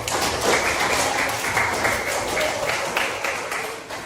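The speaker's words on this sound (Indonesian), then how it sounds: "tepuk tangan dulu untuk semuanya" A class of students claps together in a classroom, a dense, steady patter of many hands that continues throughout at moderate loudness.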